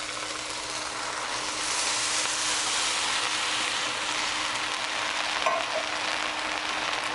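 Coconut milk being stirred into a pot of lentil curry with veggie stock, heard as a steady, close, broadband sizzling hiss with faint scraping that continues without break and without talk.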